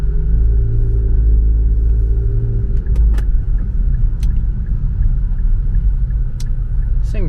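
Inside a widebody Infiniti Q50 on coilovers, the VQ engine gives a deep, continuous grumble while driving, loud and close, with a few light clicks and rattles over the rumble.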